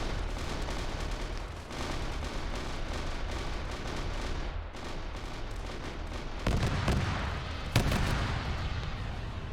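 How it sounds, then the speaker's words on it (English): Dense, continuous gunfire in a sci-fi battle between UNSC forces and Space Marines, overlapping rapid shots and muffled blasts forming a steady roar, with a few sharper, louder cracks near the end. "Yeah, so they're firing through that opening."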